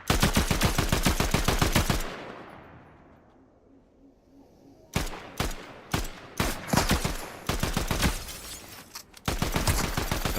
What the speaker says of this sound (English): Gunfire on the other side of the mountain.